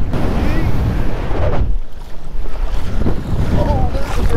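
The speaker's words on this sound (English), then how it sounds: "It's still super windy" Strong beach wind batters the microphone in a continuous heavy roar, with surf and water washing beneath it on a Padre Island shoreline, steady apart from a short lull midway.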